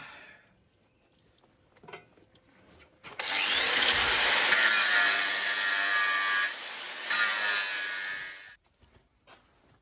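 A power saw cuts into a Dana 30 front axle from a Jeep Cherokee XJ, a loud harsh grinding whine lasting several seconds with a brief dip, framed by quiet handling noises before and after.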